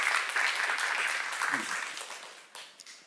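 A church congregation claps steadily throughout a sermon, a dense patter of applause that slowly tapers toward the end.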